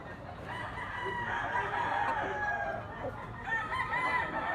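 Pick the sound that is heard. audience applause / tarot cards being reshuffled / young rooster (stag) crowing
young rooster (stag) crowing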